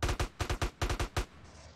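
A rapid burst of about nine gunshots in a video game fires in a tight uneven rhythm, loud and close, then cuts off into a faint tail.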